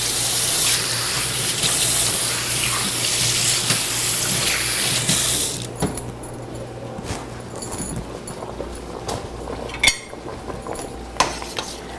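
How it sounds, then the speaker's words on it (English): A kitchen faucet runs steadily for about five seconds while hands are washed, then shuts off, leaving faint clinks of utensils and dishes with a few sharp knocks. "Let's wash these hands and see if my potatoes are just about ready."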